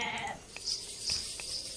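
Goats bleating in the strategy game Age of Mythology: Retold, a few short nasal calls close by over a steady bed of game ambience.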